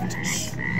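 A frog in an aquarium tank gives a short, raspy croak that lasts under a second. It sounds close and fairly clear.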